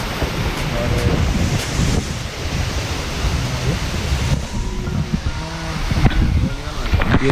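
Wind and water roar outdoors at a hidden waterfall near Mumbai, a loud, steady broadband rush with gusty buffeting on the microphone throughout.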